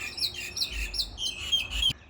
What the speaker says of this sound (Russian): Птички тут поют.